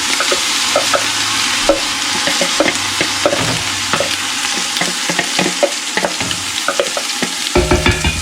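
Chopped onions and peppers frying in a pot for chili, a steady close sizzle with scattered crackles and a few utensil taps, no voices.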